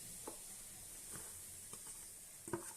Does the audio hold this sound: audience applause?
no